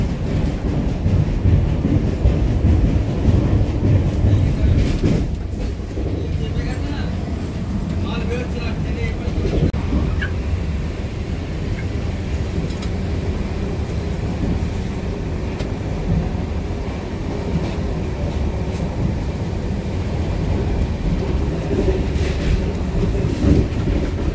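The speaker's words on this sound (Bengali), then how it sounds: "আর ট্রেন তো চলছে দুর্দান্ত স্পিডে" A New Delhi–Howrah Rajdhani Express train rushes along at speed near Asansol with a loud, steady rumble and rattle throughout, and voices can be heard over the noise.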